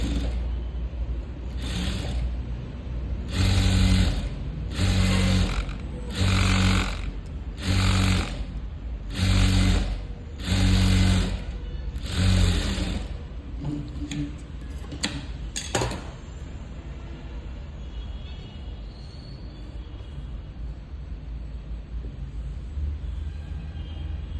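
Sewing machine stitching thread piping onto a sleeve in a run of about ten short, evenly spaced bursts of rattling stitches close by, then falling silent to a low hum.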